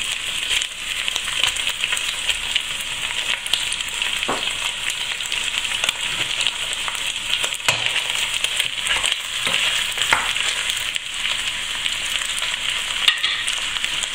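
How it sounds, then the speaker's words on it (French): Rabbit pieces browning in a hot butter-and-oil mix give a steady, close, continuous sizzle and crackle throughout, with no talking. "mettez vos morceaux de lapin à dorer sur chaque face pendant une dizaine de minutes"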